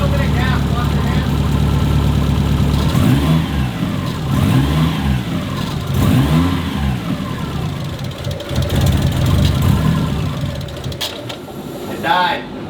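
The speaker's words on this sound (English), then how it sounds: "Let me give it a little bit of gas." A 2005 Subaru STI engine runs loud and close, with throttle blips swelling and falling in a few rough surges before cutting out near the end, while people talk over it.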